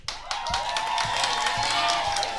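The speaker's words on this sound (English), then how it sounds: "So clap if you want to hear from Jake first." A studio audience at a dating show claps and cheers in a dense, loud burst of applause that fills the whole stretch, with scattered whoops on top.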